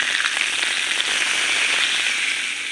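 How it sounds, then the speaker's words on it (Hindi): Hot oil hissing and crackling as a tadka is poured in for palak dal made without garlic or onion, a loud steady sizzle with fine popping throughout. "अब इसके हम लोग सिर्फ तड़का डालेंगे,"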